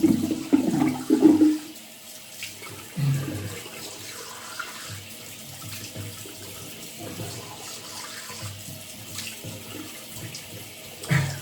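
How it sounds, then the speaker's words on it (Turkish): Tap water runs into a sink while a face is washed after a classic wet shave, with loud splashing bursts at the start, a steady quieter flow in between, and another splash at the end. "Şimdi yüzümü yıkayacağım."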